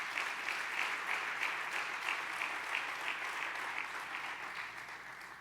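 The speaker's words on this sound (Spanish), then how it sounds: "Dele un buen aplauso de alabanza al Rey nuevamente." Steady applause from a large church congregation, many hands clapping continuously and evenly, slowly fading a little toward the end.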